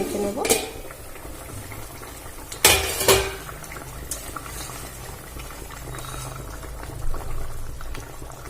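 Lid lifted off a pot of boiling potatoes in a home kitchen, a couple of sharp metallic clanks over a steady bubbling simmer, close up, with no voice.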